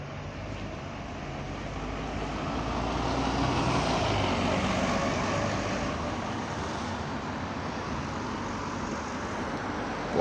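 A WVL bus on route 89 drives past with a broad engine and road roar that swells near the middle and fades slightly, heard from close by without talk.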